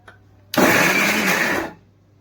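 A mixer grinder whirs loudly as it grinds ginger paste with oil, running in one steady burst of just over a second before spinning down to silence.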